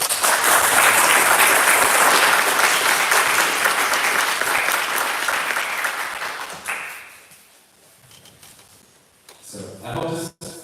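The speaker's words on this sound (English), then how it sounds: "now you can clap your hands" Dense, sustained hand clapping from a large audience at a student symposium general assembly in Morocco after a motion passes, loud at first and then fading over several seconds into scattered claps and voices.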